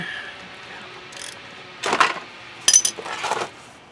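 A wrench breaking loose the oil drain plug on a Honda CBR600RR motorcycle gives a few short metallic clinks and scrapes, close and fairly quiet, in two brief bursts with no talking.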